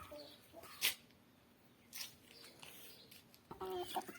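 Chickens in a backyard coop give a few scattered clucks and squawks, moderately near and fairly quiet, with short gaps of soft background noise between calls.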